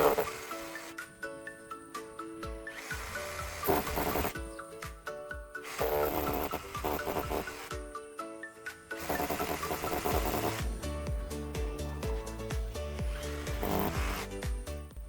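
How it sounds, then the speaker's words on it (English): A drill bores into an exterior wall during a lamp installation, with several bursts of loud, gritty drilling broken by short pauses. The drilling is close and heard alone, with no talking. "I drill into the wall using the appropriate drill bit"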